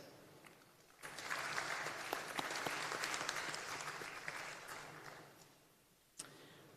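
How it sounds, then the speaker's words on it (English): Graduates and guests at a university convocation ceremony give a steady round of applause, a moderately distant, even patter of many hands that swells in and gradually fades, followed by a brief sharp noise. "give a good round of applause in appreciating their efforts"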